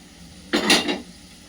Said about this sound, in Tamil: குக்கரை ஓப்பன் பண்ணி எடுத்துக்கலாம்